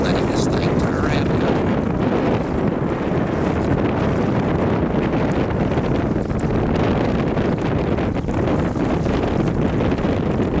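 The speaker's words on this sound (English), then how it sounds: "duck boat with a 50 horse Yamaha. We sell excitement. Look at this thing turn around." A 50 horsepower Yamaha outboard on an 18-foot Xpress duck boat drones steadily beneath heavy wind buffeting and the slap of choppy lake water, loud and continuous throughout.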